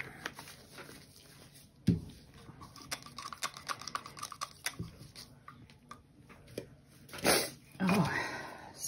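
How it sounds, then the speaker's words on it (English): A single sharp sneeze breaks out near the microphone during acrylic paint pouring, among quiet clicks, taps and small handling noises, with a second burst shortly after. "Sneeze."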